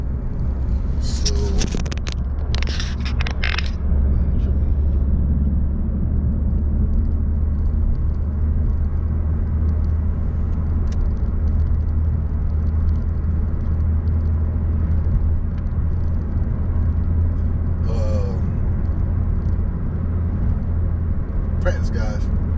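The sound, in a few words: manual transmission car engine while driving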